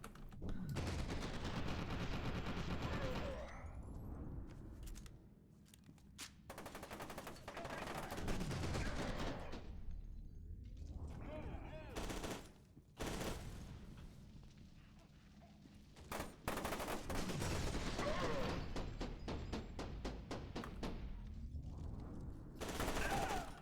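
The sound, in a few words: gunfire in the video game F.E.A.R. 2: Project Origin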